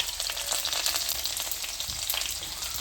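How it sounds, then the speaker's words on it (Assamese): Fish roasts over an open fire, giving a steady, close hiss and crackle of sizzling with no speech. "এয়া মই মাছ পুৰি আছোঁ"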